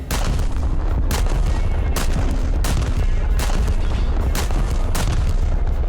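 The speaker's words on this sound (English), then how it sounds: "ranging shot allows you to shoot one shell at a time of the main guns" Naval main guns fire single ranging shells in the War Thunder video game, with loud, booming shots repeating about every second or so over a constant heavy rumble.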